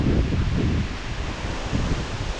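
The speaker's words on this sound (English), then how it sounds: "They're enjoying that wind coming in." Wind gusting outdoors along an old rail bed at a nature preserve before a storm, a loud, steady rushing roar with broad rumble from the gusts buffeting the microphone.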